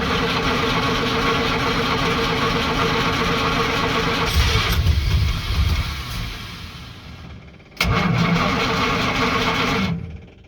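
A 1945 Jaguar MkIV engine cranks and runs with a steady idle, dips and nearly dies, then catches again with a sudden burst before cutting off, all loud and close with no talking.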